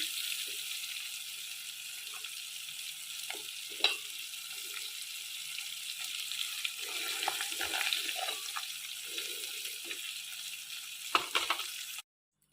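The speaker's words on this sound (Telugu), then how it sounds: "ఇప్పుడు ఈ ఆయిల్లోనే ఉల్లిపాయలు పచ్చిమిర్చి వేసుకున్నాం" Onions and green chilies go into oil left from frying fish, a bright continuous hiss of frying with occasional soft stirring bumps, steady and fairly close until it cuts off at the end.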